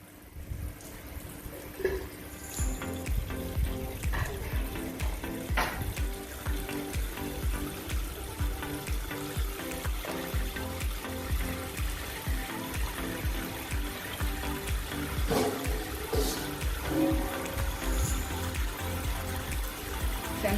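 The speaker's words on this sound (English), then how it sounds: "So I'm going to rinse my pork now with some vinegar." Water and vinegar splashing and trickling as pork is rinsed in a container, a steady close running-water sound with light clatter and splashes throughout.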